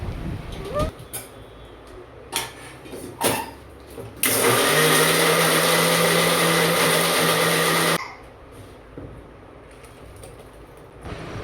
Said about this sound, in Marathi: त्याच्यामध्ये ॲड करूया थोडीशी साखर आणि मग आपण त्याला काढूयात मिक्सरमध्ये